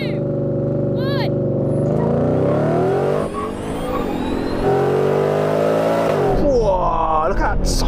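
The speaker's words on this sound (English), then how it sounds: "Whoa, look at that Cybertruck take off." Tesla Cybertruck taking off hard from a standstill, a loud rising engine-like whine and rushing roar that climbs steadily, with excited voices shouting over it.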